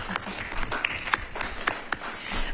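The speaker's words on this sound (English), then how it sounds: "round of applause for that" Scattered, fairly faint applause in a transit authority meeting room marking the opening of a transit center, with a handful of distinct claps standing out over a soft patter.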